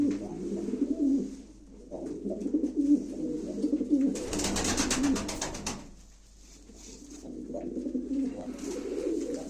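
A male and female pair of pigeons coo in soft, low, rolling phrases, repeating steadily, with a brief burst of flapping wings in the middle.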